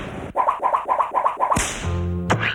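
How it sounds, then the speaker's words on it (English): A whip is swung and cracked outdoors in summer: a rapid rhythmic swishing series builds to a sharp, loud crack, then a second crack follows, close and alone without speech. "the crack of the whip is the tip breaking the sound barrier"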